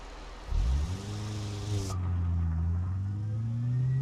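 A Toyota Corolla AE92 engine in BeamNG revs up sharply, then settles into a steady, rising drone, close and loud with no talk over it.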